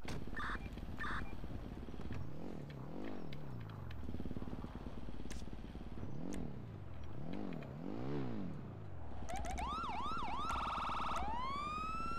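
A police siren in a roleplay video game wails in loud, repeating rising and falling sweeps over a low engine drone, then switches to quicker high yelping tones near the end.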